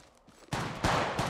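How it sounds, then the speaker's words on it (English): Automatic gunfire in Apex Legends Mobile, a couple of sharp loud bursts from quiet background. "Listen up, I'm getting shot at."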